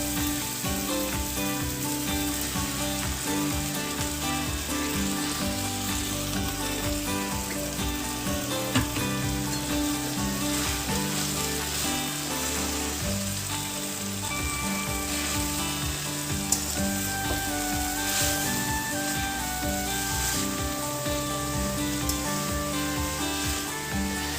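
Fenugreek leaves frying with onion and tomato in a pan give off a steady, loud sizzle that runs without a break, with faint scraping and stirring now and then and no voices.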